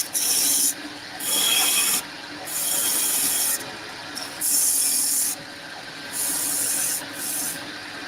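Woodturning tool cutting a cove into wood spinning on a lathe, heard as repeated harsh scraping bursts about a second long, separated by short pauses, close and loud with no talking.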